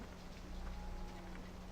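Steady rain and hail in the farming game Farming Simulator 17, heard as a faint, even wash of rainfall with no clear individual hailstone impacts.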